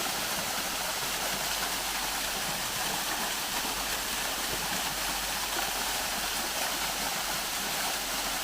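A waterfall on the Warwoman Dell nature trail in Clayton, Georgia roars in a dense, constant wash, steady and full throughout with no pauses.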